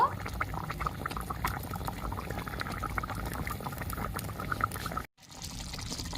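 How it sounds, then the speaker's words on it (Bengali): Dahi katla curry boiling in a pan with curry leaves, a steady bubbling and sizzling wash held at moderate level, with a brief dropout near the end. "ভালো করে ফুটিয়ে নেব"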